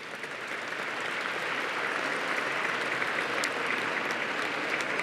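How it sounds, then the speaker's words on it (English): Sustained applause from a gala audience in an indoor hall, a steady dense wash of clapping that holds at an even level throughout. "That's worth a round of applause right there."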